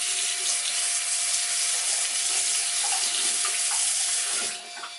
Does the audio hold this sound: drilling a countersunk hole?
no